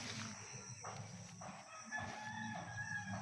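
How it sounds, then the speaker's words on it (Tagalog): A rooster crows over a busy farmyard with chickens clucking, goats and other animals calling nearby under dwarf coconut trees, a steady outdoor din throughout. "Yan ang mga manok at kambing dito sa"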